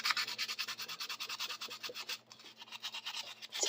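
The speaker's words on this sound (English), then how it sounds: "take some sanding paper or sticks or files or something, and now I'm just going to start kind of leveling" 320 grit sandpaper rubs back and forth across a 3D printed Star Wars Arquitens light cruiser model in quick, rhythmic strokes, close and crisp, with a faint low hum underneath and a brief pause midway.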